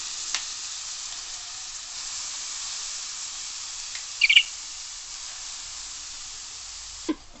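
Grated carrot frying in ghee in a kadhai for carrot halwa, giving a steady, even sizzle with a couple of brief stirring clinks near the middle and end, and no voices.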